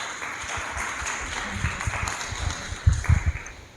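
Audience applause at a church teaching session, a soft steady patter of clapping that grows louder and more uneven toward the end, with a few sharper claps standing out near the close.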